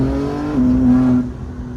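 A BMW M4 G82 with a titanium single midpipe and its exhaust valves open gives a brief loud rev, the engine note climbing and holding for about half a second before dropping back to a steady drone.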